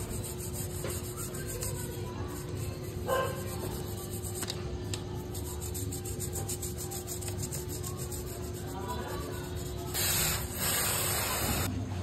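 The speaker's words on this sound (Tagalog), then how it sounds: "After nga natin mabugahan ay sinabayan natin ng brush para matanggal yung mga kalawang doon sa may sulok-sulok." A brush scrubbing rust from the corners of a motorcycle chain sprayed with chain cleaner, a close, continuous rasping rub with brief louder strokes near the end.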